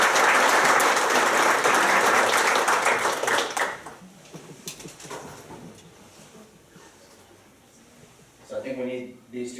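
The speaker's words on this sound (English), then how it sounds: "So let's give them a round of applause." Applause at a city council meeting for facade grant winners, a loud burst of clapping from the room that fades out after about four seconds, followed by quiet room noise and a voice starting to speak near the end.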